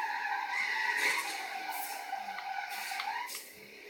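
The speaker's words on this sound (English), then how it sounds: "Good drift. It's just awesome drift." Car drifting in the Forza Horizon 3 racing game, a Dodge Dart Hemi Super Stock, with tires squealing in a long sustained skid over engine noise, then several shorter squeals as the slide fades.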